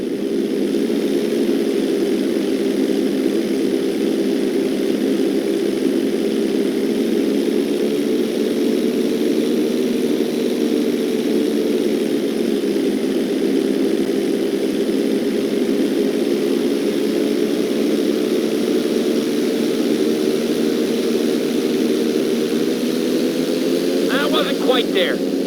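Steady propeller aircraft engine drone in GTA 5 flight school as the plane performs an inside loop, a continuous loud hum with subtle pitch shifts, under a spoken instructor voice.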